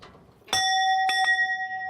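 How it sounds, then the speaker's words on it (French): A ferry-call bell on the Saar is pulled by hand, giving two or three bright metallic rings that sustain with a clear, ringing tone. "Il suffit tout simplement de tirer la cloche."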